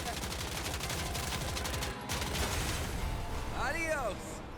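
Rapid bursts of automatic gunfire from the Ananta video game crackle in a dense volley, pause briefly, then resume, with a brief tonal whoosh near the end.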